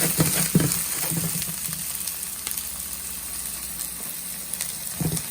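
Chopped garlic, ginger, scallion and red onion sizzle in hot oil for a Nepali chicken chowmein, a loud steady frying hiss with a few clattering stirs and scrapes near the start and end.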